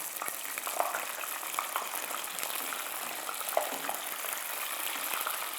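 Sweet potato chips frying in hot oil while being turned, giving a continuous dense hiss and bubbling crackle with a few faint clinks, close and steady.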